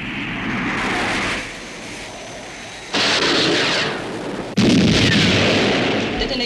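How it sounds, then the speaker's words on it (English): Missile launch and detonation in a UFO intercept scene: a loud rushing roar that jumps in level twice, ending with a sharp, booming blast that stays loud and broad as it fades slowly. "Commencing missile sequence. Firing"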